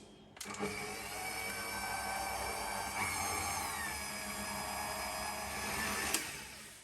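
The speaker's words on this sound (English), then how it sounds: "Now let's mix it on a low speed for around 2 to 3 minutes until we can no longer see any dry ingredients" A stand mixer runs on low speed through donut dough, a steady motor whine and hum that starts abruptly, holds for about six seconds and stops.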